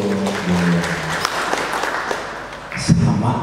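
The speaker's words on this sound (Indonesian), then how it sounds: "Tepuk tangan untuk" Audience applause at the 2017 pre-launch event for Cimahi Heritage Tourism, a steady wash of clapping that runs the whole stretch with voices talking over it and swelling louder near the end.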